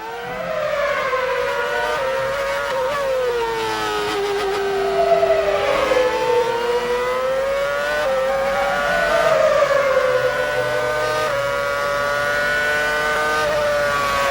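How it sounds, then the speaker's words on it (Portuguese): A Formula 1 car engine in the racing game F1 2006, at the Spain circuit, roars continuously, its pitch sweeping up through the gears and dropping under braking, loud and alone. "Que saúde tem esse motor, amigo."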